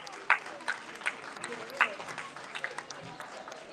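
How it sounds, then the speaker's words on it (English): A scattered round of clapping from a small crowd at a comic convention cosplay event, with a few sharper claps standing out against a murmur of voices. "Big round of applause."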